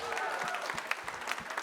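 Audience applauding at the official presentation of Golden Globe Race sailing skippers, a dense, even patter of many hands clapping, moderately distant and steady throughout.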